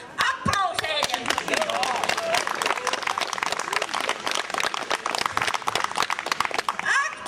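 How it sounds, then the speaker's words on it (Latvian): Loud, sustained audience applause at a Piebalga fair-day stage event in 2012, dense clapping and crowd noise continuing steadily throughout with a few voices mixed in. "Aplausējam!"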